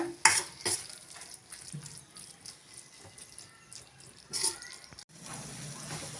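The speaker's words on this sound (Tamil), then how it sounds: "ஒரு ரெண்டு நிமிஷம் போல் வதக்கி விட்டுக்கோங்க" Chili powder and ginger-garlic masala being sautéed and stirred in a pan for potato masala, a soft sizzle with intermittent scraping stirs and a couple of louder clinks, fairly quiet and close.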